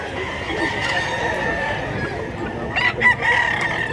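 Chickens and roosters crow at a poultry market, several crows layered close over a steady background of clucking and crowd hubbub.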